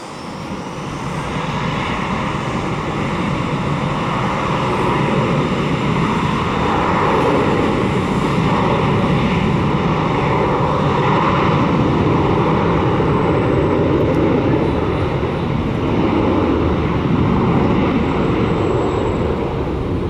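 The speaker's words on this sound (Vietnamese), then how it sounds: "Còn bây giờ máy bay cất cánh nào." An airliner takes off at Tan Son Nhat airport in Vietnam, a loud continuous roar of jet engines that swells in the first seconds and holds steady for about twenty seconds, with no talk.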